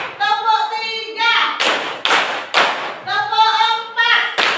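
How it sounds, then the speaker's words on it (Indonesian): A class chants a count in unison, each chanted number answered by a loud burst of sharp hand claps that grows in number with the count, voices and clapping alternating closely. "Tepuk 1, tepuk 2, tepuk 3"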